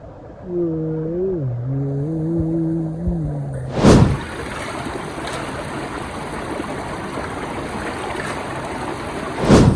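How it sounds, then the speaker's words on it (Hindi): Rushing water of a stream beside a rainy campsite in Soon Valley, a steady broadband wash running the whole time, preceded by a low tonal hum and broken by two short loud bursts. "अभी देखिए पानी की अभी भी शोर आ रहा है"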